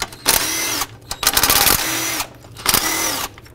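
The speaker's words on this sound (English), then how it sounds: "I'm going to remove these 3 10-millimeter bolts, get this bracket out of the way" A power tool spins out 10-millimeter bolts on a 1997-2003 Ford F-150 during a spark plug job: three close, loud whirring bursts separated by short pauses, each starting and stopping sharply, with no speech.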